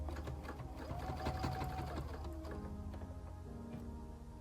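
Close, steady hum and rapid ticking of a sewing machine sewing a quarter-inch side seam on a small bandana fabric pen pouch, with a slight change in motor pitch partway through and no speech.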